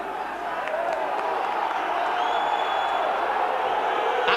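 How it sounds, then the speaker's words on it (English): A rugby league crowd at Catalans versus Wakefield reacts unhappily with a sustained roar of jeers and whistles. A commentator talks over the noise. "Crowd not at all happy."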